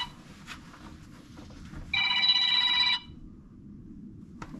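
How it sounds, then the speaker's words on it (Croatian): A telephone rings once in a quiet indoor room, a single clear electronic ring burst lasting about a second, loud and close, with faint handling noises and a small click before and after. "Evo, zvoni telefon."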